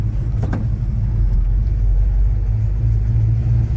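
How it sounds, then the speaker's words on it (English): An old Chevy C10 pickup truck rolls along under a steady, loud, low engine rumble heard from inside the cab, with a brief knock early on and no talking. "It's a good running old truck though."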